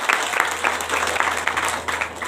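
Church congregation applauding loudly, a dense, continuous wash of many hands clapping with rhythmic surges, filling the room throughout.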